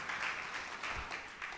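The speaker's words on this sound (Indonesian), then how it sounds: "Tepuk tangan yang meriah untuk kemuliaan nama Tuhan." A church congregation applauds in a brief, dense burst of clapping that swells and stays full, moderately loud and filling the room, without anyone talking over it.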